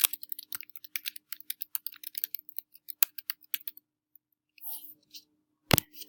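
Typing on a computer keyboard while laying out a magazine cover, a close, quiet run of quick irregular key clicks with brief pauses and a final louder tap.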